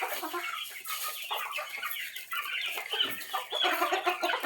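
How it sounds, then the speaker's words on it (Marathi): Domestic hens kept in a coop cluck and squawk continuously, several birds overlapping at close range with a busy, restless texture throughout. "बघू शकता या कोंबड्यांचा स्टॉक जो आहे मी तुम्हाला दाखवते"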